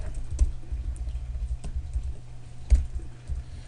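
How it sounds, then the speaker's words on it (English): Computer keyboard keys pressed as shortcuts during spreadsheet work, a scattered series of close, soft clicks and taps with irregular spacing and a couple of sharper strikes. "I'm using the keyboard shortcuts to get up to the Paste Special dialog"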